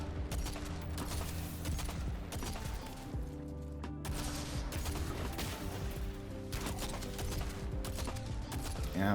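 Dense, continuous gunfire from a weapon in a Destiny-style shooter video game, a fast rattling stream of shots with mechanical clicks, loud and unbroken throughout.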